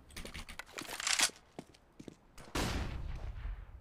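AK rifle gunfire in Counter-Strike, heard as sharp close bursts with crunchy transients and a loud sustained stretch near the end, with no talk.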